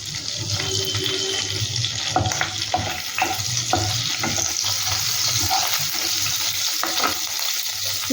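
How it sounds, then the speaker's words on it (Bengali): Cumin seeds and ginger frying in a pan for an egg malai masala, a continuous close sizzle with scattered clicks and scrapes of stirring, no speech. "জিরেটা দিয়ে তার মধ্যে আদাগুলো দিয়ে দিলাম।"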